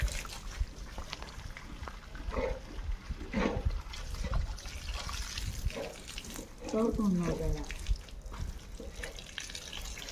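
Water runs from a hose left lying outdoors, a soft steady trickle and splash under several people talking nearby.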